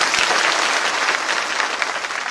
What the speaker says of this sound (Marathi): जोरदार टाळ्या वाजवून.